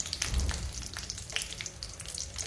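Mustard seeds and dried red chillies frying in hot oil for a Telugu roti pachadi of gongura (puntikura) chutney, giving a steady close sizzle with scattered crackles and pops, no voices.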